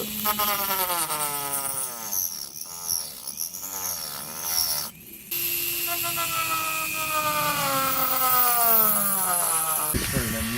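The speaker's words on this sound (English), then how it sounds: "Just sanded it down with the Dremel tool." A Dremel rotary tool whines at a high pitch, rising and falling as it grinds and sands the cut opening in a Ford Fiesta ST front bumper, close and sustained with a brief break midway.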